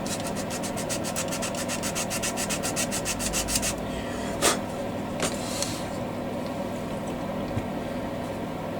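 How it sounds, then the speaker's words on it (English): Sandpaper rubbing on a 1/48 Airfix Fairey Gannet plastic model, a rapid, steady scratchy back-and-forth for the first few seconds, then a couple of brief close scrapes over quiet room noise. "Sand in there, right?"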